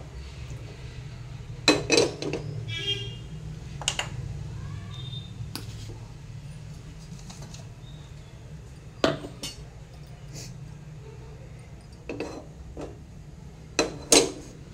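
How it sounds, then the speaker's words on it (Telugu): Poppy seeds and sesame seeds dry-roasting in a pan, with sparse, sharp clinks and scrapes of a utensil against the metal over a quiet, low background hum. "ఇప్పుడు నేను ఈ గసాలు, నువ్వులు ఇవన్నీ వేయించుకుంటున్నాను"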